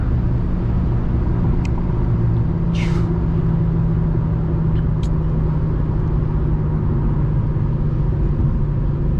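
Infiniti car driven hard in manual mode, a steady loud engine and road rumble from inside the cabin continuing throughout, with a few brief faint clicks and a short whoosh early on.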